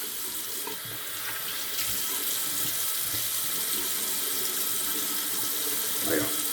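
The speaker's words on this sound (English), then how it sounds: "cold water rinse." A bathroom tap runs steadily for a cold-water rinse after shaving, giving a continuous hissing splash with small shifts as hands or a face move through the stream.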